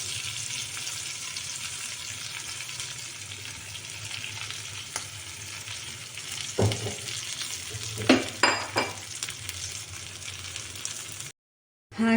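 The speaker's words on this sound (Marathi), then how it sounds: "त्याला आता व्यवस्थित परतून तेल सुटू द्यायचं आहे" Stuffed eggplant sizzles steadily as it fries in oil with masala, and a few louder stirring scrapes against the pan come near the end before a brief silence.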